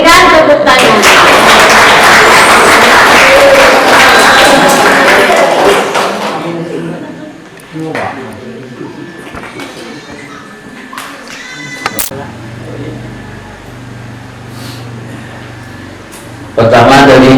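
Audience applause at a Ramadan boarding-school closing ceremony at an Islamic boarding school, dense loud clapping for about six seconds that fades into scattered taps, thumps and murmuring voices, with a brief burst at the very end.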